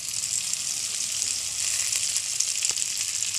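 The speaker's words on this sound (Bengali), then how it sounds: "সবজির সঙ্গে মিশিয়ে নিচ্ছি পাস্তা" Pasta, fried egg and vegetables being stirred in a hot pan, giving a steady close sizzle and frying hiss with faint scraping, and no talking.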